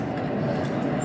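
Steady low rumbling roar from inside a bullet train travelling at high speed, continuous and loud for the whole moment.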